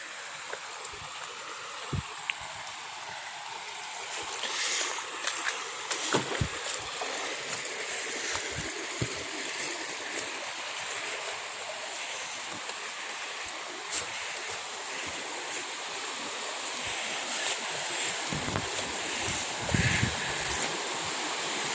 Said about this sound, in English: I'm heading towards that waterfall